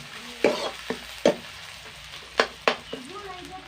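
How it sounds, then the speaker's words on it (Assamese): Onion frying in a pan gives a soft background sizzle, broken by several sharp scraping strokes of a spatula as it is stirred, close by. "পিঁয়াজটো দিলোঁ অলপ ঢাকি দিম অলপ ৰঙচুৱা কৰিম পিঁয়াজটো"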